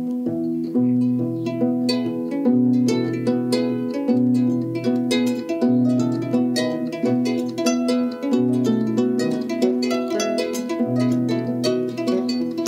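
Solo kora in a masterclass setting, busy interlocking plucked-string patterns that build and evolve over a steady repeating bass, close, bright and sustained with no speech.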